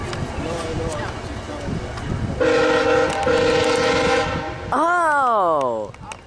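A VIA Rail P42 locomotive sounds its horn: a loud sustained multi-tone chord held for about two seconds, followed by a falling, Doppler-shifted blast as the train passes, with rail noise and wind beneath.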